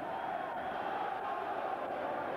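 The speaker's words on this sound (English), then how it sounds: "The crowd chanting." Boxing arena crowd during Nigel Benn vs Gerald McClellan chants in a dense, steady roar, distant and moderately loud, with a faint rhythmic pulse.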